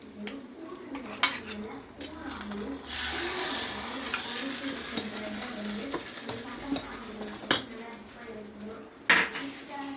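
A hot tempering sizzles as it is poured into coconut and roasted gram chutney, a soft steady hiss broken by spoon stirring and clinks against the pot, with scattered sharp taps throughout.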